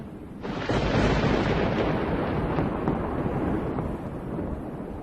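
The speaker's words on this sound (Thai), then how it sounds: "ทำไมฟ้าและฟ้าร้องหนักขนาดนี้หรอครับ" A deep, sustained rumble rolls on for several seconds, heavy and broad like distant thunder, slowly easing without fading out.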